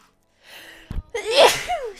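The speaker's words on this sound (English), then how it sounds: "I also just sneezed all over you guys" A single close sneeze, a sharp sudden burst preceded by a brief inhaling breath and followed by a trailing vocal sound, loud against an otherwise quiet indoor room.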